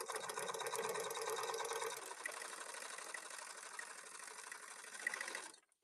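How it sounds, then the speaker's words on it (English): A sewing machine runs steadily, stitching an extra decorative seam along the edge of a fabric pouch, a continuous close whirring that shifts slightly in pitch partway through before stopping abruptly at the end. "I'm going to go right along this edge and right along this edge with an additional seam"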